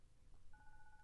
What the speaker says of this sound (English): There's a faint ringing in the distance, but it's not within the gardens.